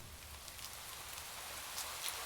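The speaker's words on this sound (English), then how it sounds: "causing rain to fall." Rain falling as a soft, steady hiss of drops, faint and continuous with a couple of slightly louder patters near the end.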